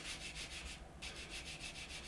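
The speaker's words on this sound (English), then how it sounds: "what we've got is a fine sanding stick, and then what we're going to do is just rub over the top" A fine sanding stick rubs back and forth over a plastic Revell Me 262 model part, close and quiet, with a steady rhythmic hiss of strokes and one brief pause midway, no talking.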